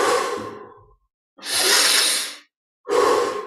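Slow, deep breaths during a guided meditation: a long inhale, a silent pause, then a broad, airy exhale, with another breath starting at the end. Close and fairly loud, with no voice over it.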